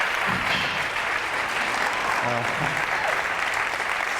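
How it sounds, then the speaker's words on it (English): Audience at a motivational talk applauding, a dense steady wash of clapping that holds at an even level throughout, with faint voices underneath. "Big round of applause, please, for Ali and Lucy"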